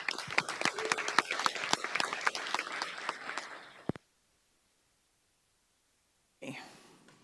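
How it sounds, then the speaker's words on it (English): A small audience at a presentation on accessible Microsoft Word gives a brief round of clapping, close and busy for about four seconds before cutting to silence, followed by faint room noise. "So if you'll give him a round of applause"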